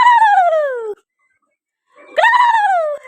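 A puppy howls loudly and close, two long falling wails separated by a second of silence, with no voices around.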